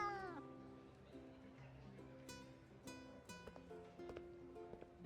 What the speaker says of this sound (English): I follow the sound to find Xavier behind the cat tree, confronting an unfamiliar kitty.